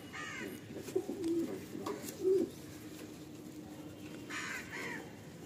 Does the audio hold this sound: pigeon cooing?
yes